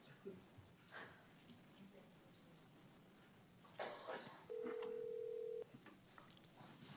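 A phone line connecting into a public redistricting hearing gives a steady electronic tone of about a second, with faint room noise and brief speech-like sounds before it.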